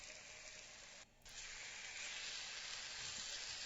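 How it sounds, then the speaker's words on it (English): Bacon sizzling in a frying pan, a steady dense crackling hiss like rainfall that drops out briefly near the start, then returns a little louder and continues without talk. "It's the sizzling of bacon."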